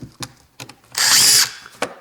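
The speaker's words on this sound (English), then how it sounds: "there's my electric driver. It is faster, and there are small screws" Electric screwdriver backing small Phillips screws out of a car power window switch, one short whirring burst between light clicks and handling taps, close and alone.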